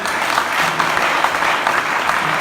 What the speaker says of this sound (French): Vous devez même acclamer le Seigneur.